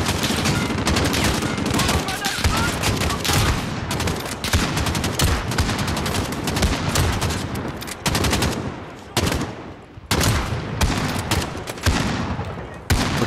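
Dense, continuous automatic gunfire and repeated shots from a Call of Duty: Modern Warfare campaign firefight, loud and sustained for the whole stretch with only brief dips, with a few faint voices underneath.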